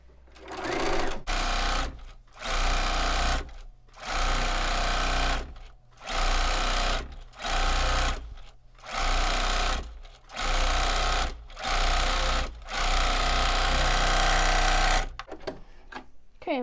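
A sewing machine stitches a fall leaves table runner, running in about nine steady bursts of a second or so each, separated by short pauses, loud and close with no voices.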